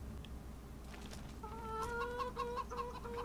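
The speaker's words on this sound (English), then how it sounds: "Oh no, now the rooster noticed me." Rooster clucking in the farming video game Farming Simulator 25, a series of short tonal clucks and calls that grow steadier and more repeated over a few seconds, moderately close over a low background hum.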